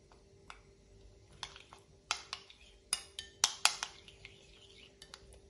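A spoon clinking and scraping in a bowl while stirring herbs, salt, cumin and water into a pizza topping mix, a quick run of light metallic taps over quiet background, no talking.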